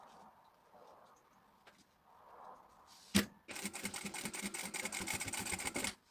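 A sewing machine stitching bias binding onto fabric starts with a sharp clack, then runs steadily in a fast, even mechanical chatter for about two and a half seconds after soft handling noises.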